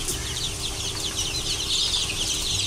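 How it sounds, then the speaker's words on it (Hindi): Golden Misri desi hens released outdoors on a small-scale farm, a busy overlapping chorus of many clucks and chirps close by, continuous and fairly loud with no talking. "ये सारी मुर्गियाँ बाहर आ गई"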